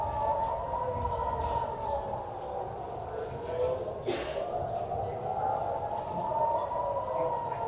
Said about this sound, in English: you hear the sirens there telling people to go in shelter, telling people to go to their bunkers